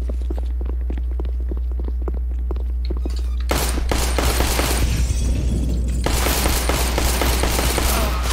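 Rifle gunfire in a video game: rapid automatic bursts start out muffled and steady, then erupt into loud, dense volleys from about three and a half seconds on, with sharp cracks layered over a continuous low rumble.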